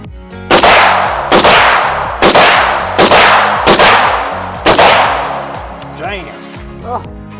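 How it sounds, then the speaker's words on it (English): An M1 Garand rifle fires six loud, sharp shots at a shooting range, each ringing out in steady succession about a second apart, followed by quieter metallic clinks and voices. "We got Ethan over here with his M1 Garand"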